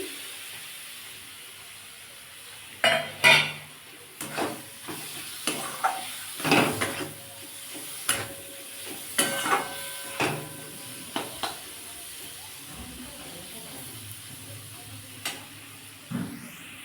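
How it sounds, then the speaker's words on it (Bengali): Freshly ground spices are stirred into a hog plum pickle in a pan, with a low sizzle underneath and a series of spaced spoon scrapes and knocks that start a few seconds in. "এবার আমি যে মশলাটা গুঁড়িয়ে রেখেছিলাম সেটা দিয়ে দেবো দিয়ে বন্ধুরা ভালো করে নাড়িয়ে নিচ্ছি"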